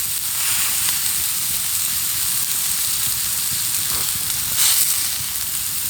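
Steak and onions frying in a pan inside a heated winter tent, a continuous crackling sizzle with soft popping, close and fairly loud, with no voices.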